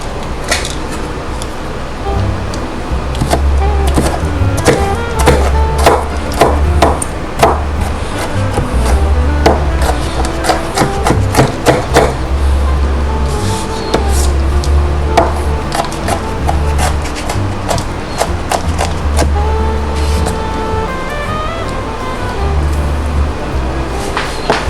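A knife chops vegetables on a board for Cajun pickled eggs, a quick steady run of sharp knocks going on for a long stretch, loud and close with a low hum underneath.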